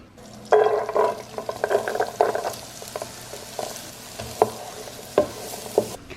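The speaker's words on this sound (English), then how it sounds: "in a large skillet, we're going to melt the butter and add the onion and celery" Onion and celery cook in melted butter in a large skillet, a soft steady sizzle broken by repeated close scraping stirs of a utensil against the pan.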